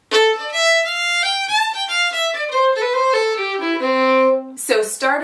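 A fiddle plays a flowing section of a tune alone, with bowed notes stepping up and down in a lively melody and a brief accented flourish near the end.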